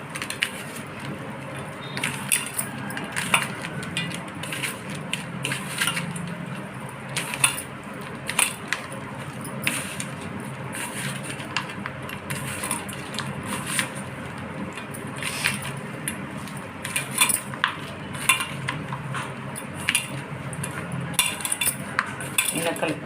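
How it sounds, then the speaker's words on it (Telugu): Bitter gourd fry ingredients are tossed together in a bowl or pan, with a spoon scraping and clinking against the metal in irregular strokes, steady and close up throughout. "ఇప్పుడు వీటన్నిటిని కలిపేద్దామండి. బాగా కలిపేసుకుందాం."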